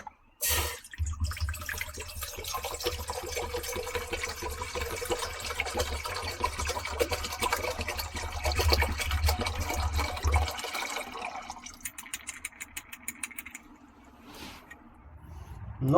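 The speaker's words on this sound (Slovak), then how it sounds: "A dáme tam vodičku" Water poured from a container into a cooking kettle outdoors in a rock cave shelter on a rainy day, set over a camping stove: a steady, fairly loud rushing pour for about ten seconds, then quieter trickles and drips.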